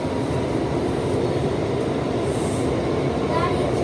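An R179 C subway train rides from Nostrand Avenue to Franklin Avenue, a loud, steady rumble and rush of wheels and car noise filling the ride without a break.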